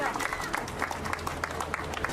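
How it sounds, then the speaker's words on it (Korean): Applause from guests at a wedding where the bride wears a fused hanbok and wedding dress, a dense crowd clapping steadily with voices chattering underneath. "박수"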